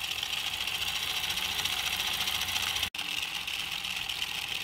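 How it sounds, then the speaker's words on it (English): A 3D printed DC motor spins with a steady, loud, buzzing whir and a fine rattling texture, broken by one abrupt instant dropout before the hum resumes unchanged. "with any luck, your DC motor will start spinning"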